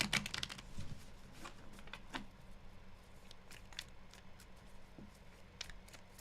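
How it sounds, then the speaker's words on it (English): Tarot cards are shuffled softly for a reading, a quiet run of light riffles and taps scattered across the stretch with no voice over them. "Last shuffle."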